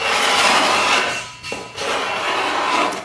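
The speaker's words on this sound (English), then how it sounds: "with my cabinet scraper, this one feels good, I can simply scrape" A cabinet scraper shaves a wooden edge in long rasping strokes, loud close scraping with a short pause between passes before the next stroke resumes.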